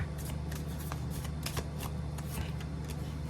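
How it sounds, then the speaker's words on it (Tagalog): Close, steady riffling of tarot cards being shuffled, quick papery flicks repeating in a soft continuous patter with a low background hum. "Kumuha tayo dito ng 3 cards."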